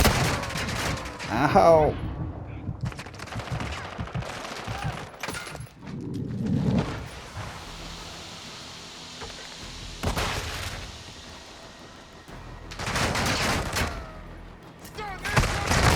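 Call of Duty: Modern Warfare II gunfire comes as loud, close bursts of shots and booming impacts, with a dense flurry at the start and more bursts near the end, while a player talks and gives a brief pained cry.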